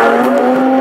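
A mid-1990s Ferrari F50 sports car, derived from a 1990 Grand Prix racer, roaring past at a car festival with a loud, steady, high engine note held throughout a brief, close burst.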